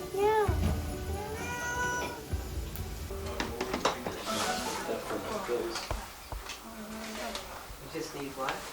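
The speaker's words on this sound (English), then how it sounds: "Oh, what's your name, Kitty?" A cat meows several times near the start, rising and falling in pitch, then people talk close by while faint clatter continues in the background.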